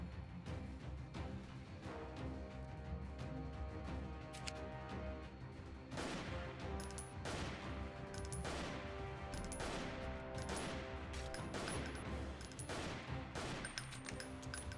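Sustained gunfire in the game Freeman: Guerrilla Warfare, a dense fusillade of overlapping shots and bursts that continues for the whole stretch, with sharper loud cracks punching through from the middle onward.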